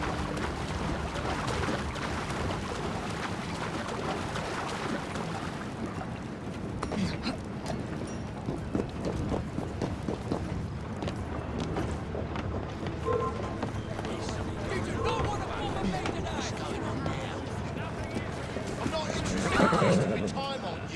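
Hooves pound rhythmically as a horse runs in Assassin's Creed Syndicate, mixed with creaking carriage mechanics and ambient game sound, with a brief whinny near the end.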